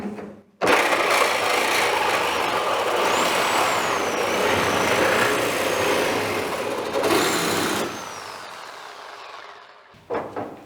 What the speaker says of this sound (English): So the safe way is then to do it with a reciprocal saw